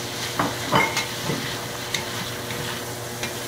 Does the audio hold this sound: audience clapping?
no